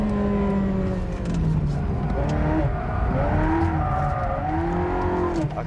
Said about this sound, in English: The Modena attacking without the ASR.